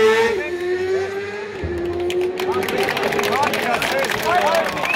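Racing motorcycles in a 600 supersport class roar past at full throttle at a road race in Križevci, their engine notes rising and falling loudly and continuously while people talk nearby.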